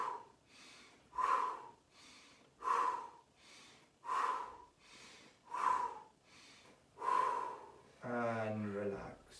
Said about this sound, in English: So fast breathing in through the nose and out through the mouth.